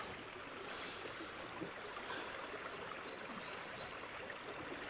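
A stream of water flows near a tent campsite during rain, heard as a faint, steady rushing murmur without voices.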